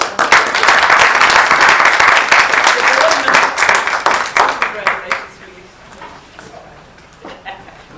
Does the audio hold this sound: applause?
yes